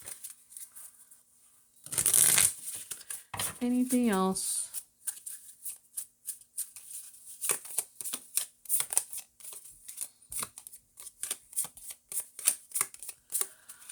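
A deck of cards is shuffled by hand at a table, with rapid riffling bursts and soft slaps spread across the stretch, close and fairly loud, alongside a short spoken question and some speech-like sounds.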